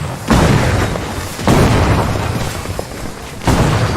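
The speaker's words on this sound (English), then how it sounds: "As you see there, I blocked the grenade." A grenade explodes in a video game: three loud, close booms land about a second or two apart, each a heavy burst that rumbles and fades before the next.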